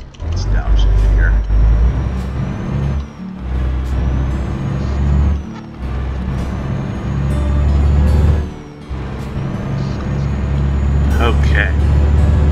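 A truck engine in Euro Truck Simulator 2 downshifts and rumbles steadily, with brief dips between gear changes and an air-brake hiss, while someone talks over it.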